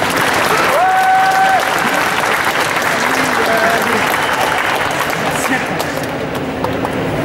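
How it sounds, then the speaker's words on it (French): A Japan Expo audience applauds two performers at a Bioman 35th anniversary event, loud sustained clapping with whistles and voices scattered through the crowd. "on applaudit nos deux interprètes magnifiques, messieurs Pierre et Fabrice"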